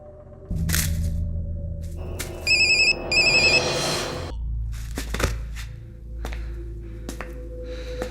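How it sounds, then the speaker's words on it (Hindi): A phone ringtone chirps in short repeated bursts over a rumbling background, followed by clicks and scattered sharp taps. "भाई रिंग बज रही, वो उठा नहीं रहा है।"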